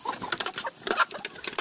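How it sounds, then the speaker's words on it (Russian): Chickens being fed bread with jam cluck nearby in a rapid, busy series of short calls that overlap in an irregular chatter. "Куры."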